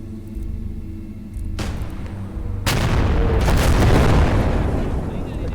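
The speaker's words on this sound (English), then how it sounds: "Tank gun." A tank gun fires with one heavy, loud boom in the Eastern Front battle of Call to Arms Gates of Hell: Ostfront, followed by a long rumbling tail over steady battlefield noise, with a softer report before it.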